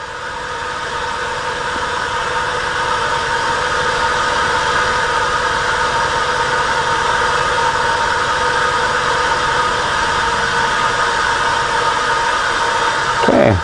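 ST-270 SRD spin rinse dryer running its final dry step, a loud steady mechanical hum with a constant whine, holding level before a brief clunk right at the end.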